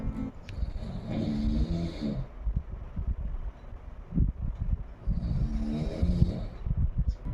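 A father and son asleep in the morning, snoring in long rough breaths that rise and fade in two slow cycles, close and fairly loud, with no talking.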